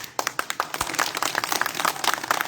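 Audience members clap at a political speech, a dense run of sharp, uneven handclaps close by, steady throughout with no break.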